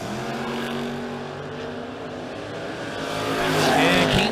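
Drag race cars, one of them a Camaro, launching and roaring at a drag strip with a sustained loud engine drone that swells toward the end, no talk.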